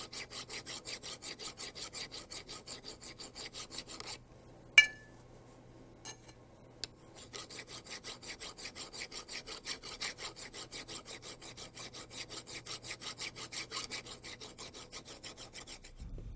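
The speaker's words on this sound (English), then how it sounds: "file the upper bearing housing where it contacts the airframe" A metal upper bearing housing from a RotorWay helicopter is filed by hand in long, rhythmic rasping strokes. The strokes stop briefly for a few seconds, with a couple of sharp clinks, then the filing resumes at the same steady pace.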